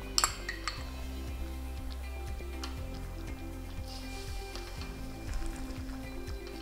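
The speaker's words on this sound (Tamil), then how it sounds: "எல்லாம் போட்டு நல்லா கலந்து விட்டுருக்கோம்" Ladle scraping and clinking in a pot as cooked lentils and mixed vegetables are stirred together for a seven-vegetable kootu, a few sharp metallic taps near the start and soft scraping throughout, close and fairly quiet.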